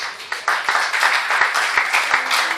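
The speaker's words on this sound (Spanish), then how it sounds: "Dale un aplauso al que vive" A church congregation claps in applause, a burst of many hands forming a loud, busy patter with a few sharper individual claps standing out, lasting a couple of seconds.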